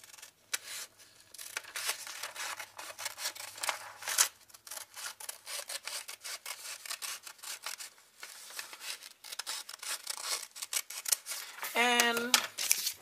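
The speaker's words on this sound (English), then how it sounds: "You can cut here, cut through this line." Scissors cut through notebook paper along a printed line while making paper snowflakes: quiet, close crisp snipping and rustling in an irregular rhythm, with a short voice near the end.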